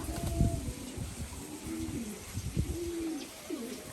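Soft repeated coos of a racing pigeon, low and throaty, among faint rustling and scattered knocks, somewhat distant and quiet.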